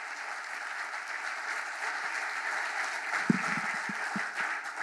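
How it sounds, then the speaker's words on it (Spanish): Audience applause closes a panel discussion on pension reform, a steady wash of many hands clapping at moderate distance, with a few louder nearby claps near the end. "Les pido un aplauso a toda la gente acá."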